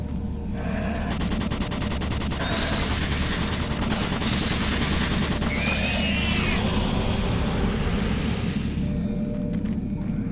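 Automated turret guns in Doom 3 fire a rapid sustained burst of gunfire, loud and close, with mechanical clatter and a sweeping whirr partway through before the shooting cuts off near the end.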